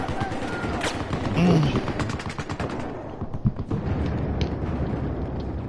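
Dense automatic gunfire in a Battlefield 4 match: rapid, loud bursts of machine-gun shots crackling continuously, with heavier impacts mixed in and a voice briefly audible under the shooting.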